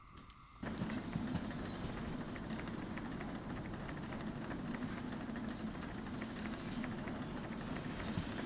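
A steady rumbling chug of a steam locomotive in the video game Derail Valley, with a constant hiss, running continuously throughout without pause.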